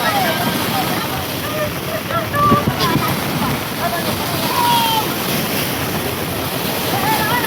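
Rough river waves churn and crash in a continuous roar, with wind buffeting the microphone and faint voices mixed in underneath.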